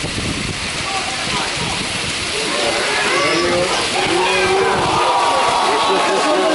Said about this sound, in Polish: na Malcie spotkał mnie po prostu zwykły deszcz